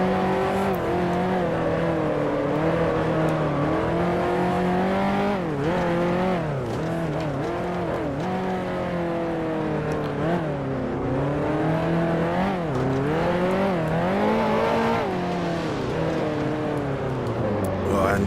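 1955 Formula One race cars, a Ferrari among them, roaring through the Monaco hairpin in Grand Prix Legends. Engines rise and fall as the cars brake, downshift and accelerate in repeated sweeps, loud and close, with someone commentating over them.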